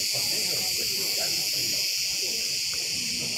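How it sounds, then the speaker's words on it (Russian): Cicadas drone near the beach at a Marmaris hotel, a loud, dense, continuous high-pitched buzz filling the whole clip with faint outdoor rustle beneath and no voices. "Цикады."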